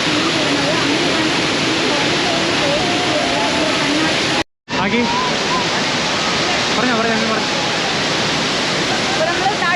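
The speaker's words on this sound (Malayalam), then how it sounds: "ഇതാണ് ഹൊഗ്നെക്കൽ വാട്ടർഫോൾസ്. അപ്പോൾ ഈ വെള്ളം ഇവിടെ നല്ല പതയായിട്ട് ഒഴുകിക്കൊണ്ടിരിക്കും പാറക്കെട്ട് വീണ്." Hogenakkal waterfall in Tamil Nadu roars loudly and continuously as foaming water pours over rocks. The roar is constant and close, with one very brief cut partway through.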